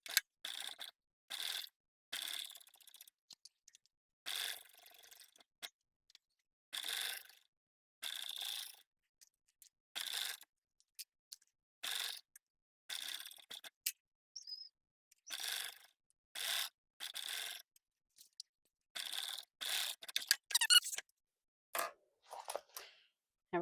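A sewing machine stitches bag pieces together in short, repeated bursts of rapid clatter separated by quiet pauses, close and fairly faint, with no talking.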